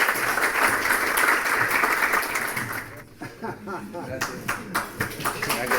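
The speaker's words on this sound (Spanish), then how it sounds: "Invito primero un fuerte aplauso para él," An audience gives loud, steady applause for an economist at a lecture event, with dense clapping that thins into scattered claps and chatter as a voice begins talking over it.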